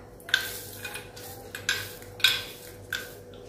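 A spoon scrapes and clinks inside a pan while a karanji filling of ghee-fried cashew and almond slivers with sesame is stirred: a handful of quiet, separate strokes landing at an uneven pace, with no voices.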